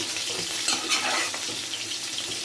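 Jute greens frying in a pan as green chilies are stirred in, a steady close sizzle with stirring scrapes running throughout, with no talking.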